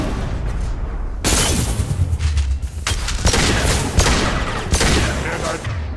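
Rapid, loud gunfire in the video game Mass Effect 2, with repeated heavy bursts of shots and booming impacts in quick succession, under brief battle chatter.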